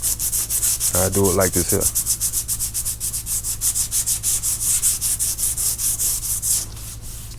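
A Chevy body panel is sanded by hand without a block, producing fast, regular back-and-forth rasping strokes that run loud and close throughout, with someone speaking briefly over them early on.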